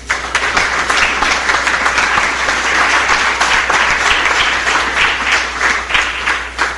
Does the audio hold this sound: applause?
yes